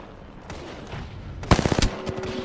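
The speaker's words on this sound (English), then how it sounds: "I am taking fire, friends." Gunfire in Apex Legends, a quick burst of several loud, close shots in rapid succession after a quieter stretch of background game noise.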